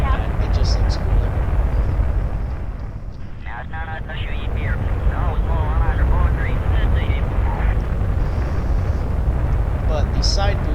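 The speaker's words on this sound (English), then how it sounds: "But these side boosters, they're gonna burn out." Liquid-fuel side boosters on a Kerbal Space Program rocket roar as a steady, loud, broadband rumble that runs through the whole stretch, with someone talking over it.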